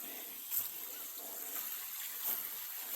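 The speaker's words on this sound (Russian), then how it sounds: "Еще один водопадик маленький." A small forest waterfall trickles steadily, a soft continuous wash of water heard from a short distance with faint rustles, no voices.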